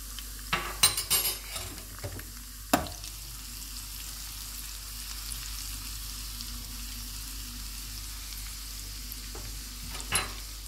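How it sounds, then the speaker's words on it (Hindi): Butter sizzles steadily in a pan while tarka is made for moong dal, a constant frying hiss, with a few sharp utensil clinks and stirring scrapes near the start and again close to the end, and no one talking. "यहाँ पे मैं तकरीबन 1 चम्मच मक्खन डाल रही हूँ।"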